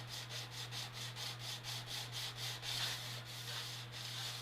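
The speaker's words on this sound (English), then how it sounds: "The camera's actually attached to the table I'm sanding on." Plastic model ship kit parts are sanded on a table in steady back-and-forth rasping strokes, about three per second, close and soft over a constant low hum.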